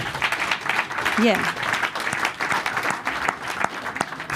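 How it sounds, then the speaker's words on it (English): Audience applause at a startup demo day event, continuous mid-level clapping throughout with a brief spoken word and voices over it. "So applause again for our startups and for our jury"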